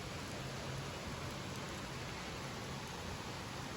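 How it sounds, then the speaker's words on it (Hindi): Sudden rain falls outside a hospital, a steady, even hiss of drops with no breaks or voices, moderately faint throughout. "अचानक से बारिश शुरू हो गई।"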